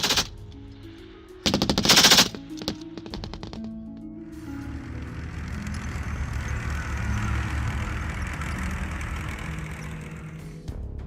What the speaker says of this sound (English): a mixed Ukrainian and foreign volunteer unit fired heavy machine guns from armored jeeps as they charged at high speed towards enemy positions